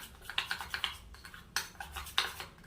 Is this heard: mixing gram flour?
yes